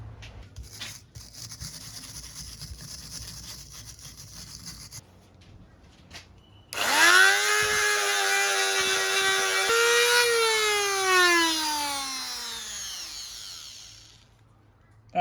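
A small wire brush on a Dremel rotary tool scrubs carbon off a Triumph Bobber cylinder head. A quiet background gives way to a loud, close, high motor whine that holds steady, then winds down in pitch near the end.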